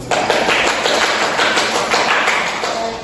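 A ninth-grade class in a micro-teaching lesson claps together at close range, a loud, brisk patter of many hands that keeps up for a few seconds.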